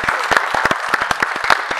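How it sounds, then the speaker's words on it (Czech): Audience clapping at a product launch event for a new drone, a short burst of sharp, distinct claps from a modest crowd, loud and close, with no talk over it. "To si myslím, že zaslouží potlesk"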